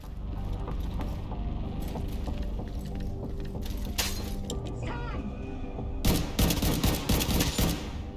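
Rapid bursts of gunfire in The Division 2, played on Xbox, crackle steadily through the scene and swell into louder, denser volleys near the end, with someone talking over the shooting.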